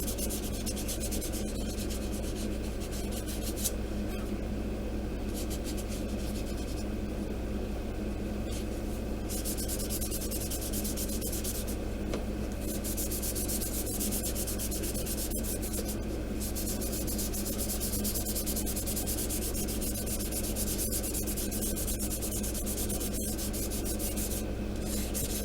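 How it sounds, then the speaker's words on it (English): Steady, continuous hand sanding of a plastic model kit with fine sandpaper, close up and fairly quiet, with short strokes blending into a constant scratchy hiss. "go across and do a light"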